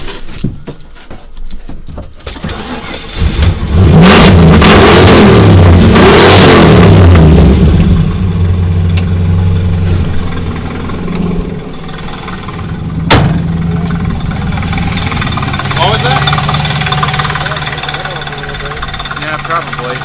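A Ford Thunderbird, just out of storage and idling unevenly before warming up, revs loudly and then settles into a rough idle, with a whining power steering pump and a sharp clank partway through.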